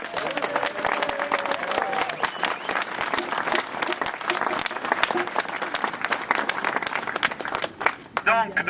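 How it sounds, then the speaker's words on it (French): A room full of people applauds steadily, the dense clapping continuing throughout with a few brief voices mixed in. "je vous demande de le saluer et de l'applaudir"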